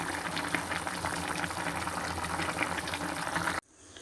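A pot of drumstick curry with tomato simmers and bubbles continuously, a steady close wash of boiling that cuts off abruptly near the end.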